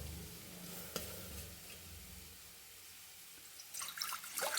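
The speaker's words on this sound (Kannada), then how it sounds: "1 ಕಪ್ ಆಗೋಷ್ಟು ನೀರು ಇಟ್ಕೊಂಡಿದ್ದೀನಿ." About a cup of water poured into a cooking pan while making Malnad-style turmeric leaf kadbu, a steady wash of splashing and sizzling noise with a soft knock near the start and a louder surge of water toward the end.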